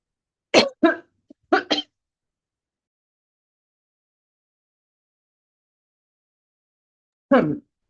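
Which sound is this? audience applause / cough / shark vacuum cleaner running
cough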